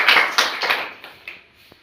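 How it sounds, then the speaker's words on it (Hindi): Students in a classroom clapping hands in a short burst of quick, uneven claps that fade into a few scattered later claps, moderately loud and close. "ताली बजाओ।"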